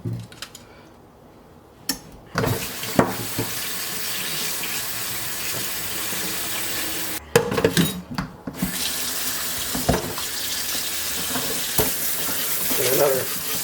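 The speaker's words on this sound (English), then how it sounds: "I'm going to rinse our pork with some hot water." A hot-water spray in a kitchen sink rinses pork pieces, giving a steady hiss of running water with a short break partway through and some splashing and clatter.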